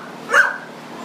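A large black dog gives a single sharp bark at a shelter, one brief, fairly close woof that rises out of quiet background and fades quickly.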